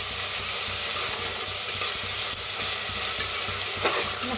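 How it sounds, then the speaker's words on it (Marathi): Jackfruit curry with green chili and garlic being roasted and stirred in a pan: a constant loud sizzle with repeated spoon scrapes and clinks against the metal, steady throughout with no voices. "छान भाजून घे, हलवत छान भाजून घ्यायचं"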